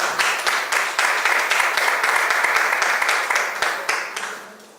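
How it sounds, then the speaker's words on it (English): Audience applause at a stock exchange market research finalists' awards ceremony, a dense sustained wash of many hands clapping at close range, holding steady for several seconds before tapering off at the end. "So give them another round of applause."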